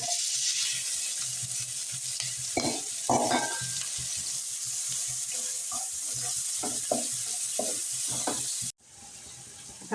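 Cumin seeds and onion frying in butter in a pan for veg biryani, a steady close sizzle with bursts of stirring and spoon clatter, ending abruptly into a quieter hiss.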